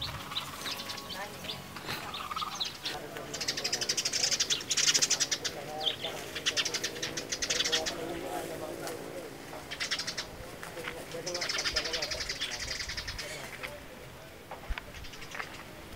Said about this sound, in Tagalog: Tapos yung mga tunog ng ibon